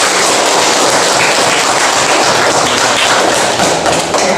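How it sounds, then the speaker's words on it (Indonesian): A classroom group claps on cue during an Islamic religious lesson, a loud, dense and continuous burst of many hands slapping together, close and unbroken for several seconds. "Tepuk tangan."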